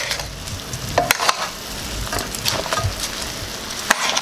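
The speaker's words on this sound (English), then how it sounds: "Mix all the rice, make sure everything is evenly colored with the caramelized sugar" Rice is stirred through browning, caramelized sugar, in a pot for Trinidad pigtail pelau, with a continuous close sizzle and scraping, clattering spoon strokes against the pot at irregular intervals.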